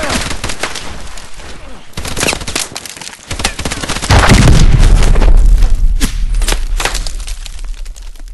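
Heavy gunfire in Call of Duty Advanced Warfare, bursts of automatic fire and deep booms through the whole stretch, growing louder and denser midway, with only faint voices beneath.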